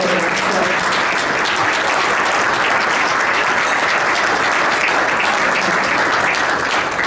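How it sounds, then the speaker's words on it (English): An audience gives sustained, dense applause at a university event with the president of KSU, the clapping steady and loud from start to finish with no talk over it. "I just want to give everybody a round of applause"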